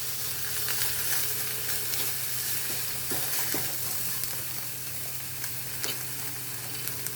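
Onion, green chilli, curry leaves and garlic sauté in hot oil in a pan for a Maldivian tuna curry, a steady close sizzle with scattered crackles and pops, no voices.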